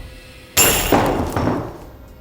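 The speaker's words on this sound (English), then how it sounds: "To fracture through an 8 to 10 inch thick piece of glass, for example, this 3-inch chisel works quite nicely utilizing an 8-pound post maul." An 8-pound post maul drives a 3-inch chisel into an 8 to 10 inch thick block of glass, giving one sharp, loud crack that rings out and then decays through a second, softer crunch.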